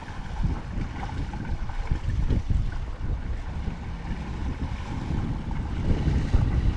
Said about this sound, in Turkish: Büyük teknenin dalgaları geliyor.